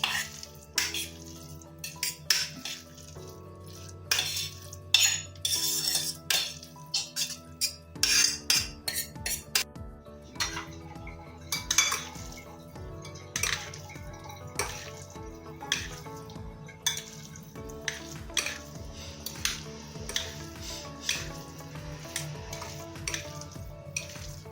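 Cooked rice being stirred together with vegetables in a pot, a spoon scraping and clanking against the metal in repeated irregular strokes with a soft sizzle beneath, close and clear, without speech.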